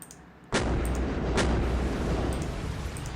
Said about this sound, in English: we're gonna send this guy over here and bomb their shipyard